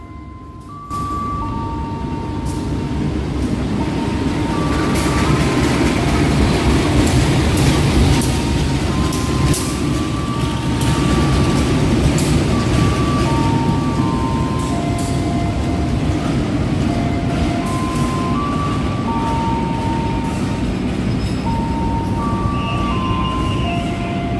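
The Ciremai passenger train from Cirebon to Bandung rolls steadily along the rails with a continuous loud rumble from inside the carriage, with faint rhythmic clatter and occasional squeaks and tones across the whole stretch.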